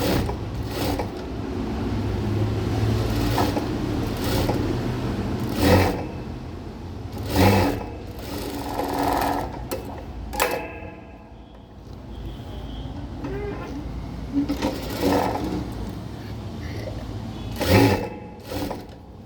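Electric sewing machine stitching saree fabric, several bursts of fast mechanical whirring that start and stop repeatedly, with quiet pauses between runs and no talking.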